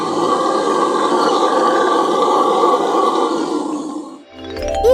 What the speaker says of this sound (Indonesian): Itu suara monyet howler.